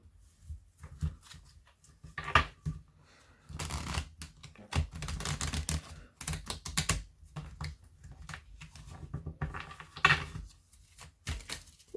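A tarot card deck is riffled and shuffled in several quick bursts with pauses between, close and crisp.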